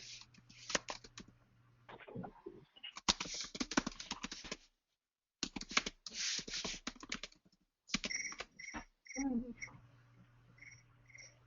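Bursts of clicky computer keyboard typing in uneven runs separated by pauses and a brief silence, fairly close, with a soft background hoot and faint voice-like sounds at times.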